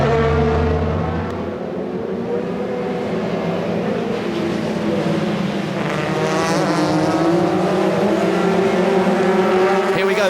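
BTCC touring cars from the 2005 season run bunched behind the safety car on the circuit, their engines a loud, steady drone that swells slightly toward the end, with a commentator talking over it.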